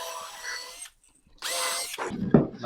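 A power drill bores pilot holes through a reclaimed scaffold board in two close bursts separated by a short pause, the second ending in rougher, lower grinding as the bit breaks through.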